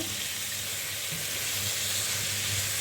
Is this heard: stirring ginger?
yes